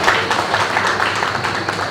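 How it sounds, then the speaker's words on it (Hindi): An audience at a student session bursts into steady applause, dense clapping held at an even loud level throughout. "एक बार फिर ताली हो जाए"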